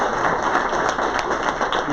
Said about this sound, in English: Keep clapping until everybody stands up.